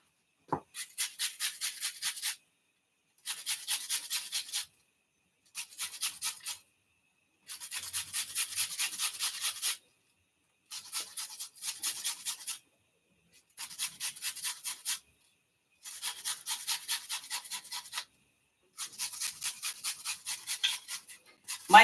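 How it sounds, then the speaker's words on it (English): An onion being grated by hand in a home kitchen: about eight bursts of quick, rasping back-and-forth strokes, each lasting one to two seconds and separated by short pauses, heard close and alone with no talk. "Alrighty, so I'm gonna grate about 1/4 of this onion"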